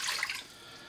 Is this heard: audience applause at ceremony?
no